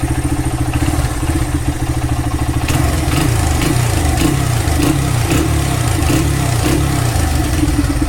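A rebuilt 2002 Honda XR100R dirt bike engine runs steadily close by, a loud continuous four-stroke putter that holds an even idle with slight rises in pitch, with no talk over it.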